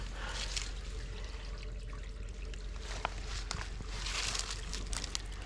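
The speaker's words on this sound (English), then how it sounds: "there we have the water coming out from going this direction" Water trickles out of a blocked kitchen drain, a faint, quiet splashing and dribbling with occasional small drips and clicks, heard alone without speech.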